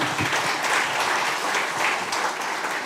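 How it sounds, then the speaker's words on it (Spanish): An audience at an intercultural education panel in Ecuador claps in dense, sustained applause filling the room, steady throughout with no voices over it. "Un aplauso, por favor, para nuestro panel."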